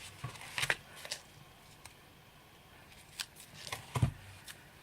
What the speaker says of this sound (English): I'll just take a bit of the edging off this and just chop that with some scissors